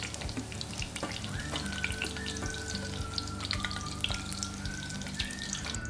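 Eggplant pieces fry in hot oil, a steady close sizzle with crackling pops running throughout and a faint background tone, no voices.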